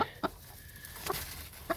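Chickens cluck in a backyard enclosure in the morning, with three short, fairly close clucks spaced apart over quiet ambient background.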